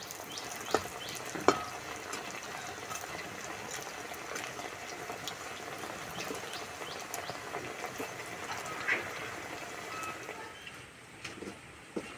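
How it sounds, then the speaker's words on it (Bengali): Semolina sweets deep frying in very hot oil over a high flame, a soft steady crackle and bubble running throughout with a few sharper pops, close and alone with no talking. "এই মিষ্টিগুলো ভাজার জন্য তেল খুব ভালো করে গরম করে নিতে হবে, নাহলে ফেটে যাবে।"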